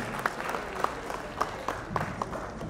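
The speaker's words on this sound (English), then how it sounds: "Please, a round of applause for him." Wedding guests at a traditional wedding in Houston, Texas, clap for a visiting organization president. The applause is soft and somewhat distant, with a few sharper individual claps standing out over a murmuring crowd.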